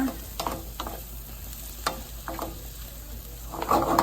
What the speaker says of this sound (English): I'm gonna give them a good stir.